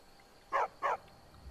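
A dog in the video game Skyrim gives two short, crisp barks in quick succession, clear and moderately loud over a quiet background.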